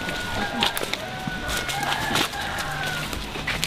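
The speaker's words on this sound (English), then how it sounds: "always follow the chicken noises" Chickens and other birds calling around a mountain village at the end of a trail in the Sierra de Zongolica, with scattered faint clucks and crowing over a steady outdoor background.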